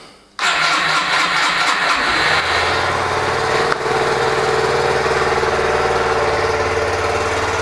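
A Yamaha YBR 125 motorcycle that has sat unused for a long time cranks and fires up, then settles into a loud, steady idle close by with no talking.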